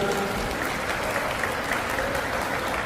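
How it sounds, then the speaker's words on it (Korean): Wedding guests applaud at a hotel wedding ceremony after the bride and groom exchange their vows. A steady wash of clapping runs throughout at moderate to faint level. "여러분 큰 박수 부탁드리겠습니다"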